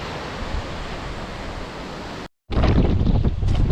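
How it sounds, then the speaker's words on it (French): Strong wind of about 20 to 25 knots gusts at a windsurfing spot, a loud continuous rush buffeting the microphone, dropping out briefly before roaring back even louder. "Ouais, ça souffle quand même pas pire."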